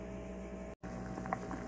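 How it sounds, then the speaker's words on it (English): Potatoes boil in a pot for homemade vegetable beef soup, a steady bubbling simmer with a brief dropout midway and a few louder pops near the end, no talking. "Potatoes are boiling."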